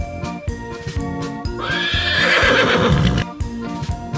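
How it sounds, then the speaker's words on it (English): A horse gives a loud, close, drawn-out neigh in the middle, set against a rhythmic clip-clop of hooves that keeps going throughout. "Horse."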